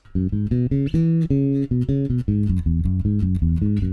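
A bass guitar plays a quick run of notes stepping up and down a scale, steady and close, with no voices.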